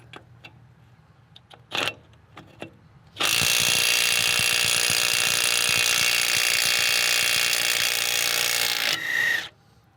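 Snap-on 18V 3/8-inch drive impact wrench on a full 5 Ah battery, running in reverse at power mode 3 to remove a tight nut: a few brief clicks, then about six seconds of loud continuous rattling hammering that stops abruptly, followed by a short burst.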